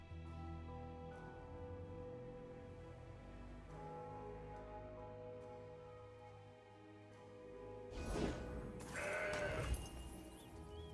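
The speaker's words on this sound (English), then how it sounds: "That's a goat." Goat bleats ring out in a video game, a loud burst of several bleats arriving near the end over steady game music and ambience.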